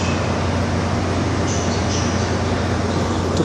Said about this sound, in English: It's the big Metro North train